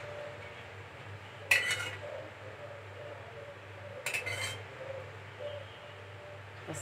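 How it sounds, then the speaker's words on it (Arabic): A metal spoon scrapes butter across a baking tray for béchamel pasta, two short scraping bursts with a faint clink between them, quiet and close, with no talking. "وبمشيها بالمعلقه كده كده على الصينيه"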